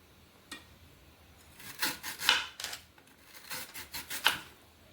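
A knife slices through a banana stem in several firm strokes, giving short rasping, fibrous cuts that come in uneven bursts at close range with no talking.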